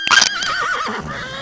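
A horse in a wild west video game gives one loud, close whinny, a quavering high neigh lasting about a second that trails off.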